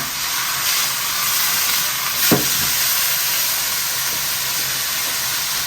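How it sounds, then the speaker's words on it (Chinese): Vegetables stir-fry in hot oil in a wok with scallion, ginger and garlic, giving a steady close sizzling hiss with one brief clank partway through. "锅中加油，配菜炒一下，葱姜蒜爆香，下入配菜，轻轻一炒"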